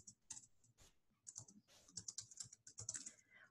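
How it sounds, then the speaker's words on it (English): Fingers type on a computer keyboard, quiet close clicking in uneven bursts with short pauses, key presses clustering irregularly. "It is easier to type when I've got a good keyboard and a mouse."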